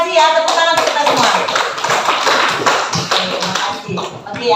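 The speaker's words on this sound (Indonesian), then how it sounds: "Tepuk tangan untuk kita semua." A group claps hands in a classroom, with quick, dense, fairly loud applause that holds steady throughout. Voices run underneath the clapping.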